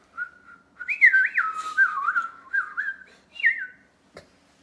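Someone whistles a short, bright, warbling tune in a home kitchen, several rising and falling phrases close to the listener, alone with no talking, ending in a small knock.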